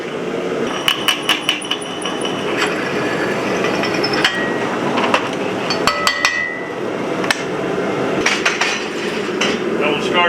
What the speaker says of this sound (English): so I'm going to center punch it